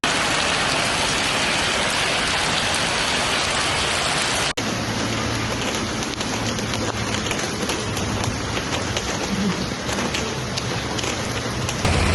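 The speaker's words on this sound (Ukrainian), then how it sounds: "Літня злива, повалені дерева та річки на дорогах." Heavy summer downpour during a July storm in Zhytomyr, Ukraine: a dense, steady roar of rain drumming on surfaces, loud and continuous, with a brief cut partway through and no voices.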